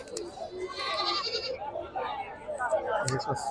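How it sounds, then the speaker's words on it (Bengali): Goats bleating amid the bustle of a crowded local goat market, with nearby and distant calls overlapping under steady chatter from people moving about. "দেখেন পাটি ছাগল এখানে রয়েছে পাখি খাসি মিক্সার করা রয়েছে"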